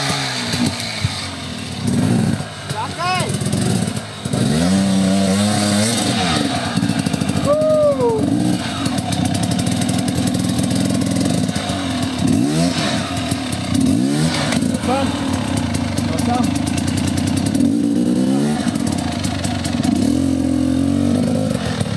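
Motorcycle engine idling and revving in bursts during an outdoor off-road event in Orehovo, loud and close throughout, with rising and falling pitch sweeps and people talking over it.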